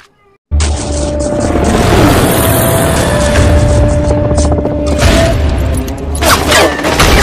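Rapid video game gunfire crackles in dense bursts after a brief silent start, loud and continuous with heavy booming impacts.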